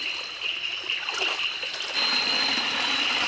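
A forest stream flows at night during a crab hunt, a continuous rushing, trickling wash of water heard up close with a thin high steady tone above it.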